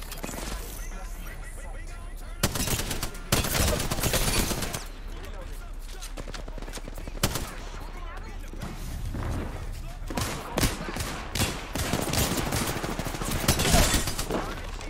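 Gunfire in the video game Apex Legends, loud bursts of automatic weapon fire and single sharp shots coming in clusters throughout, with people talking over the shooting.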